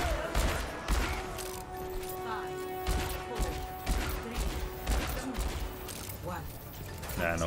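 Overwatch gunfire: a rapid sequence of loud, close shots and impacts with mechanical clanks, firing in uneven bursts amid game effects and music.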